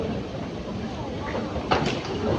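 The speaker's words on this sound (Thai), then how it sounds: "นี้รถไฟก็มาแล้วนะครับ" An Airport Rail Link train pulls into a station platform en route from Suvarnabhumi airport, a low rumbling roll with rattling and a brief sharp clatter of moving cars, heard amid station ambience with someone talking nearby.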